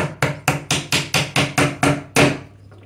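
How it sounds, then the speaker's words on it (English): A small hammer taps a 3D-printed filament stand part into place for an EasyThreed K10 printer, with nine sharp, evenly spaced knocks close up, the last one slightly harder, followed by a brief quiet. "Use a little hammer like this."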